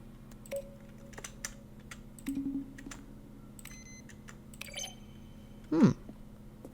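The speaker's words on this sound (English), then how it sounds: "Each sound is a mix of a keyboard stroke and a synthesized tone." Button presses from the video game The Stanley Parable, each a keyboard keystroke blended with a short synthesized tone, arrive as sparse, separate clicks with faint ringing tones over a quiet electronic hum.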